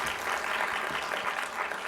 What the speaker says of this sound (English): Give Jess a big round of applause.